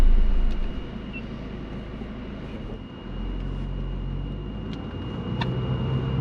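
A 2012 Mazdaspeed3 with an undermounted front-mount intercooler drives along, its engine a steady low drone heard from inside the cabin, dipping briefly and then rising again, with no talking.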